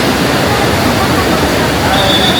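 The Yamuna river near its source at Yamunotri rushes past as a loud, steady broadband roar of flowing water, close and continuous with no break or voices.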